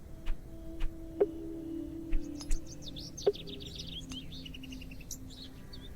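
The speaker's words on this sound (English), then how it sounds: "Look, there's birds in the window box." Birds chirp in a window box in the video game The Excavation of Hob's Barrow: short, sparse tweets repeat about once a second, then a busier burst of twittering, over a steady low ambient hum.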